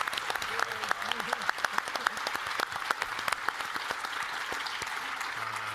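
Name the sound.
audience applause after keynote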